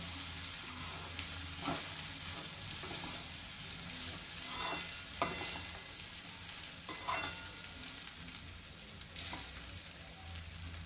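Sago pearls for sabudana khichdi are sautéed in a pan with steady sizzling and repeated scraping stirs of a spatula, moderately close and continuous, with no talking.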